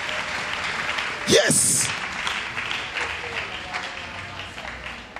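A church congregation bursts into loud applause and cheering, a short swell of clapping and shouts under a preacher's voice that settles back into a murmuring crowd.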